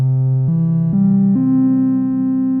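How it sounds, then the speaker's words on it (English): A buzzy, harmonically rich synthesizer tone plays a sustained note that steps upward in pitch three times, loud and steady with no other sounds. "This wavetable and this waveform inside of it just sounds like this"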